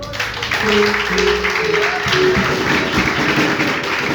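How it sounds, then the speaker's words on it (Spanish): A church congregation applauds for several seconds, a steady dense wash of clapping with some tapping and faint tonal sounds underneath. "dale un aplauso a él"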